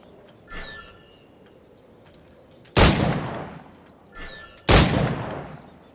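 Two loud flintlock pistol shots ring out a couple of seconds apart in Assassin's Creed Black Flag, each a sharp crack with a fading tail and a faint click just before it, over quiet insect-like ambience.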